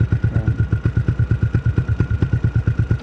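Sniper Classic 135 motorcycle fitted with a Replica Pro exhaust idling close by, an even rapid chain of deep, loud thumping pulses.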